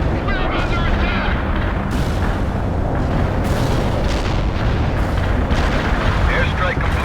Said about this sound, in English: Artillery barrage in for full effect.